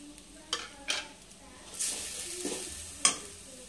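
Powdered spices sautéing in a pan for doi katla, a low sizzle under a few sharp spatula scrapes and clinks against the pan.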